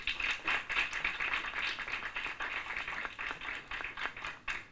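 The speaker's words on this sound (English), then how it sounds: "Let's give them a hand clap." Audience at a constitutional law moot court competition giving a round of applause, soft and somewhat distant clapping from a modest crowd, steady throughout without voices.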